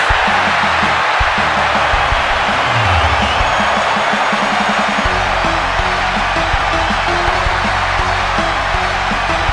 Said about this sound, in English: The roar of the crowd as this legend makes his way to the ring once again